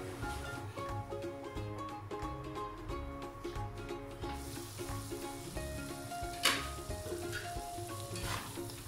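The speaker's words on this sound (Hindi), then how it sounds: "अब मैं इसको 5 to 10 मिनट्स के लिए कवर कर दूंगी ताकि मसाला अच्छे से पक जाए।" Masala with oregano, pepper, garlic and half a cup of water cooking in a pan, a steady close sizzle with stirring scrapes and a sharp clatter near the end.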